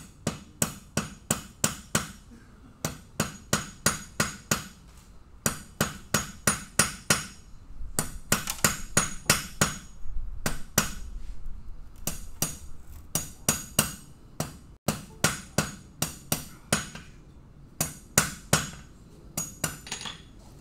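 A blacksmith's hammer strikes metal on an anvil at a guild demonstration, ringing in quick bursts of several blows separated by brief pauses, loud and close, with no voices.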